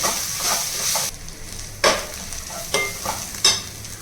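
Spices, including cumin powder, being stirred into a sizzling pan for rajma pudina rice: a low frying hiss broken by three sharp, close spoon scrapes against the pan.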